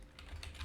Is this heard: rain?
no